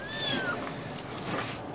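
Several young kittens meow in shrill, rising-and-falling cries near the start, followed by fainter mewing against steady room noise.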